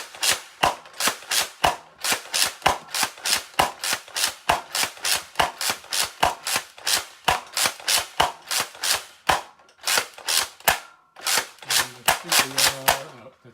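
A Nerf Rival Hades blaster fires a long string of sharp, evenly spaced shots over a chronograph, loud and close, with a short pause and brief mechanical sounds near the end.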